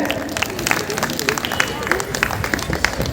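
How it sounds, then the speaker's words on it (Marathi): Enthusiastic applause from an audience at a Women's Day 2024 event, welcoming the chief guest Dr. Shelar; dense, sustained clapping with crowd babble and a voice over it throughout. "जोरदार टाळ्या वाजवून त्या ठिकाणी यांचं आपण स्वागत करूया"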